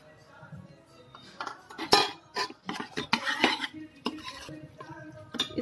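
Sliced mushrooms tipped into a pan of peas cooked in masala and stirred, with a spoon clinking and scraping against the cookware in a series of close, irregular knocks and clatters.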